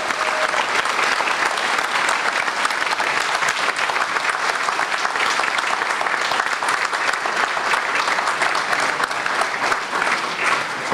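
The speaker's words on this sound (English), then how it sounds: "a round of applause." Sustained audience applause at a mayor's ball for a scholarship recipient, dense steady clapping from a full room throughout with no break.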